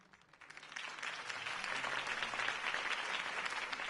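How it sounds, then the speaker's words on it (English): A crowd applauds steadily in a Batman video game, dense clapping swelling slightly and holding loud throughout, with no talking over it. "could have heard that applause"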